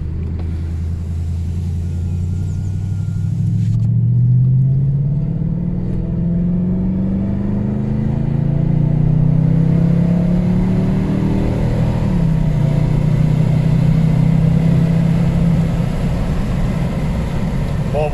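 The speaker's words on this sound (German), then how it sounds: "Ja, dann geben wir mal kurz ein bisschen Gas." A Mercedes E 63 AMG, its engine still cold, revs up in short bursts, the loud engine rumble rising and falling in pitch close by while people talk over it.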